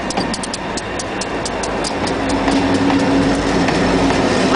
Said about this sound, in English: The alien train comes.